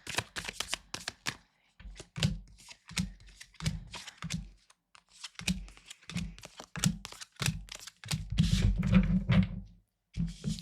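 Tarot cards are shuffled by hand in a quiet room, with crisp riffling flutters and soft taps coming in uneven bursts, close and fairly faint, ending in a longer run of rapid card noise.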